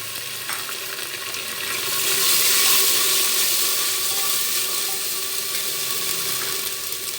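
Ginger garlic paste fries in a pan with a steady, close hiss that swells into louder sizzling partway through, then settles, with faint stirring and no talking.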